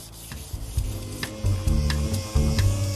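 Close, rhythmic rasping of medium sandpaper on a flat block over an Audi 100's body panel, steady back-and-forth strokes repeating without pause.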